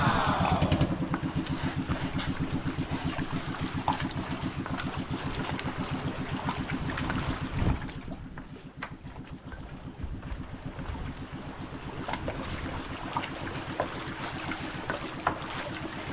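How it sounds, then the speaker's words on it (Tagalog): A boat engine runs loudly on the water, a steady, rough chugging drone close by that continues throughout, briefly easing in tone midway before returning to its full throb. "Oh, lakas ng makina."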